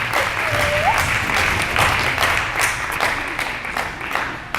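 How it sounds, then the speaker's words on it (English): Youth audience at a Drug Free Youth presentation giving itself a round of applause, dense sustained clapping from a crowd that stays loud and even for several seconds. "So give yourself a round of applause."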